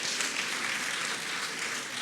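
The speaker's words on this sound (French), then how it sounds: "On applaudit pour le Président." An audience applauding President Macron at a ceremony presenting him with a parchment, with dense, steady clapping from a crowd filling the short stretch without pause.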